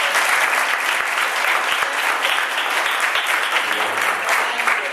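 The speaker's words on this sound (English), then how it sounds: "Can we give them a round of applause?" Audience at a Founder's Day celebration claps steadily and loudly throughout, a dense continuous patter of many hands with no voices standing out.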